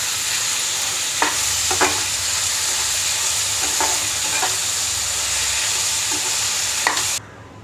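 Sautéing ingredients for chickpea and potato kurma in a pan, a steady close sizzle with a few soft scraping stirs, the sizzle dropping away abruptly near the end.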